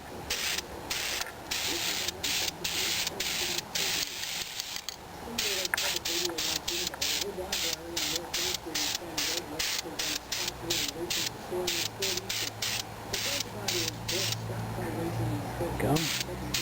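Aerosol spray coating applied to Dodge RV exhaust headers, a loud close hiss in repeated bursts of short and longer sprays, with a voice talking now and then underneath.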